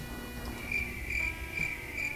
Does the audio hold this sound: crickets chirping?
yes